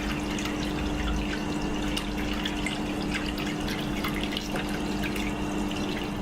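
Purified water pours and drips steadily into a stainless steel distiller tank, a continuous close trickle with scattered splashy drops and a faint hum beneath, no voices.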